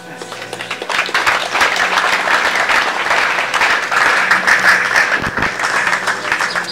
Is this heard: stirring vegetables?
no